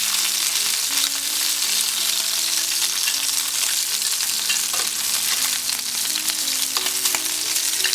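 Lamb chops frying in a hot pan, a loud, steady sizzle with crackling spatter that continues unbroken throughout, faint background tones underneath.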